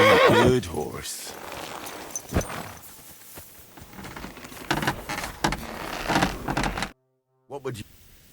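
A horse whinnies loudly at the start in Kingdom Come: Deliverance II, followed by scattered hoof clops and thuds, with a voice speaking over parts of it.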